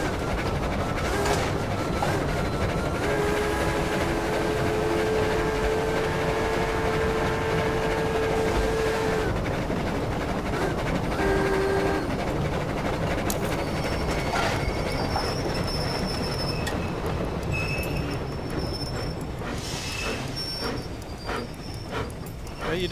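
A train in Battlefield 1 rolls along the rails with a continuous rumbling clatter, punctuated by sustained tonal squeals and later higher whistle-like tones, and faint voices now and then.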